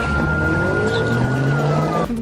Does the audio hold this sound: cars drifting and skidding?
yes